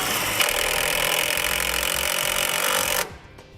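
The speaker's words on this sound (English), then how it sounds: "we'll secure it in place with the provided 5/16 self-tapping screws" Power driver spinning 5/16 self-tapping screws into sheet metal near the passenger-side firewall by the battery of a towed vehicle, while fitting a Roadmaster battery charge line kit; a steady, loud whirring grind runs about three seconds, then stops abruptly.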